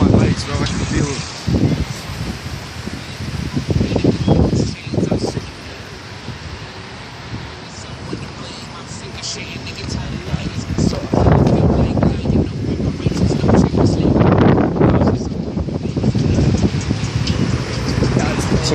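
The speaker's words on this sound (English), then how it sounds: "It's a windy day in Panama City. Stormy." Strong, stormy wind buffets the microphone on Panama City Beach, roaring in loud gusts with distant surf beneath, while someone talks over it.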